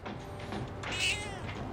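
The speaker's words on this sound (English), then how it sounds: "Still just says mew." A weak stray cat in Persona 3 Reload gives a single thin mew near the middle, over a steady bed of game background music.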